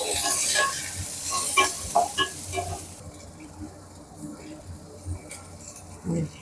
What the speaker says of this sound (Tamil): இப்போ எண்ணெய் காஞ்சிருச்சு நம்ம வந்து வெங்காயம் இஞ்சி பூண்டு எல்லாத்தையும் போட்டு நல்லா வதக்கிடும்